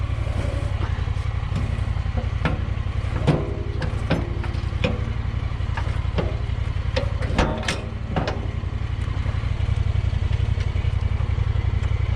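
A Honda Pioneer 1000 UTV with a quick-connect plow idles in a steady low drone, with scattered clatters and knocks of gravel being spread.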